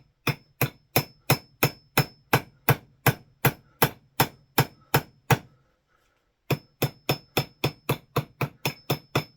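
Someone hammers a part into a Cold Steel Trailboss axe with sharp, ringing metallic blows in a steady rhythm, about fourteen close strikes, then a brief pause, then a second quicker run of about ten.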